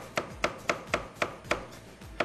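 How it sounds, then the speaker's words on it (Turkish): A knife finely chops carrots against a cutting board, eight crisp evenly spaced strikes, close and clear with no talking. "Şöyle güzelce bir minik minik doğruyoruz."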